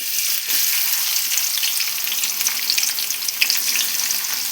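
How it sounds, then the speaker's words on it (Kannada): Finely chopped onion fries in a pan for an egg drop gravy, giving a steady, close, hissing sizzle with faint stirring scrapes and no talking. "ಚೆನ್ನಾಗಿ ಓನಿಯನ್ ಫ್ರೈ ಮಾಡಿ ಆಮೇಲೆ ಟೊಮೆಟೊನ ಹಾಕ್ಕೊಳ್ಳೋಣ ಫ್ರೆಂಡ್ಸ್"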